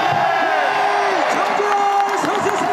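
A baseball crowd at Jamsil Stadium shouts an LG Twins team cheer in unison, loud and sustained, with a rising and falling chanted pitch and a voice over a loudspeaker mixed in.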